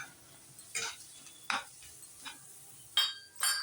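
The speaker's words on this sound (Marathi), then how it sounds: "छान हलवून घेऊया." Paneer bhurji stirred in a pan with green chilli and grated paneer, giving irregular scraping and clinking strokes of a utensil against the pan every half second or so, close and fairly quiet over a faint background.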